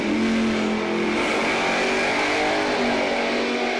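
A street-legal drag racing car launches hard down the strip at a Friday night drag event at Numidia, a loud sustained roaring engine note that stays strong and dense throughout.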